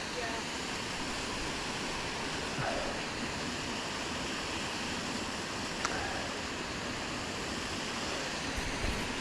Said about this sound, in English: Look at that waterfall behind her.